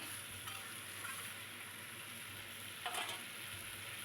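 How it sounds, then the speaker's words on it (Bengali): Taro corms being stirred in a hot frying pan: a soft, steady sizzle with a few light scraping strokes, fairly quiet and with no voices. "এবার গাঁটিটা দিয়ে দিলাম, কচুর গাঁটিটা। এবার একটু ভালো করে নেড়ে নিতে হবে।"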